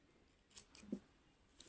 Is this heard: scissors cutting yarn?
yes